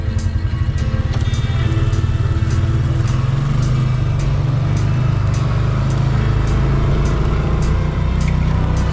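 A Can-Am Renegade 700 ATV engine churns hard through snow drifts, a loud, close, rhythmic engine drone with a throbbing pulse and repeated sharp clanks, no one talking over it.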